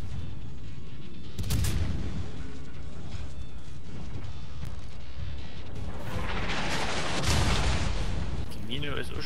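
Naval guns boom repeatedly in World of Warships while the player's ship is under fire, heavy blasts and rumbling impacts rolling through the battle, with someone talking over the action.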